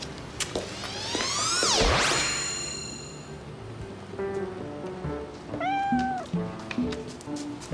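A cat meows close by, several drawn-out rising and falling cries in the first seconds, then a shorter meow near the end, set against light background noise.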